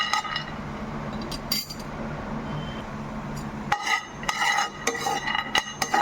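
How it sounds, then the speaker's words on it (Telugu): Peanuts roasting in a pan while being stirred, with clinking and scraping of a metal spoon against the pan in irregular bursts over a low sizzle, louder clatter toward the end, no speech. "మన పల్లీలు వేగుతున్నాయి కదా"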